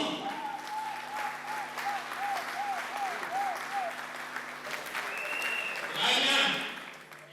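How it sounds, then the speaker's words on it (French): Continuous applause and cheering from an audience at a provincial assembly gathering, with a faint warbling melody and a short whistle-like sound rising toward the end. "j'aimerais qu'on l'accueille avec des acclamations"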